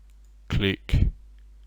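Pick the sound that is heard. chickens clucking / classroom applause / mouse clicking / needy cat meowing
mouse clicking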